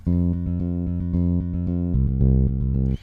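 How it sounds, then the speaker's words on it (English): A deep electric bass virtual instrument, a P-bass model, plays a steady, repeated riff of plucked low notes, loud and alone, shifting lower for a final phrase before stopping. "But first we have the Scarby pre-bass, like I said. That sounds like this."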